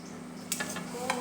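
Chicken steak sears in a pan over a steady low sizzle, with a few short scraping stirs and light clinks of a utensil against the pan.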